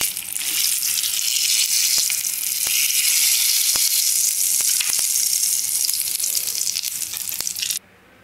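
Vegetables fry in hot oil in a pan for a Telugu stuffed brinjal curry, giving a loud, steady, close sizzle with faint crackles that runs unbroken for nearly eight seconds before suddenly dropping away.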